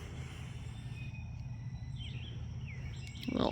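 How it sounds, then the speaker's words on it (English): Birds chirp and call around a rural flower farm property in Splendora, Texas, thin whistled notes scattered over a steady low rumble, with a louder burst of noise near the end. "You can hear all the birds, which I think is so nice"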